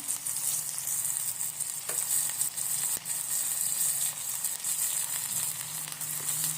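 Byadgi chilli pieces and curry leaves tempering in hot oil for dal, a continuous bright sizzle and crackle with occasional stirring clicks, close and unbroken.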